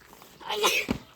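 A single close sneeze: a breathy intake building to a sharp explosive burst, brief and fairly loud.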